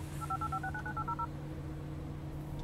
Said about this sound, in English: we simply select it and then press the dial phone button